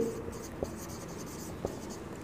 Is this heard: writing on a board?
yes